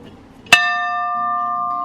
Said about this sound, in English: And that's the old bell.